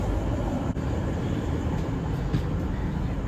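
A train rumbles at a Melbourne station, a steady, close, broadband roar with no clear breaks under light rain.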